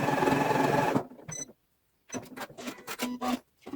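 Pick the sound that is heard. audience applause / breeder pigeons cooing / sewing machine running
sewing machine running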